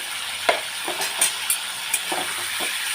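Paneer sizzles in ghee in a hot pan, with a steady hiss and several light scrapes and taps as the pieces are stirred, close and without talk.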